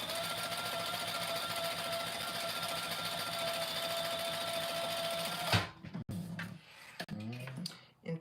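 Sewing machine top stitching a compact clutch runs in a fast, steady mechanical rattle for over five seconds, then stops abruptly, leaving brief handling noises and clatter.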